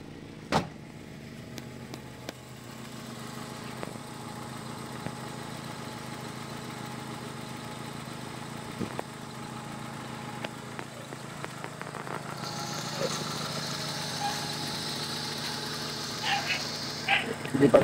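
A Honda Civic LXi engine idles steadily at moderate level while warming up, a continuous low hum with scattered clicks and a brighter hiss joining near the end.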